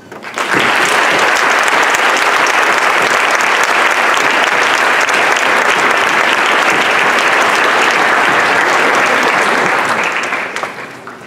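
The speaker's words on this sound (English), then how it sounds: "I ask you for a big round of applause" A graduation audience breaks into a big, sustained round of applause, dense and loud, holding steady for about ten seconds before tapering off at the end.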